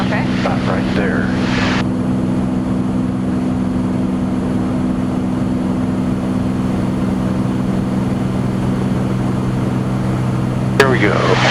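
Small aerobatic aircraft's engine drones steadily with rushing airflow as it noses over into a dive toward 164 knots, a loud continuous hum throughout, with brief voices near the start and end.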